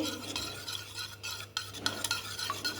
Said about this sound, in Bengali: তেল আর ডিমটা একসাথে মিশিয়ে ভালো করে ফেটিয়ে নিতে হবে কন্টিনিউয়াস ফেটাতে হবে